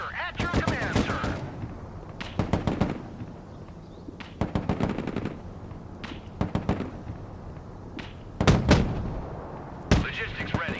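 Battle in the video game Broken Arrow, with mortar fire and gunfire: rapid bursts of shots and booming impacts in uneven clusters, loud and near, mixed with brief in-game voices.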